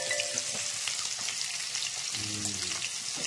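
Fish frying in hot oil in a wok gives a steady, close sizzling hiss with faint crackles, continuing alone without any talk.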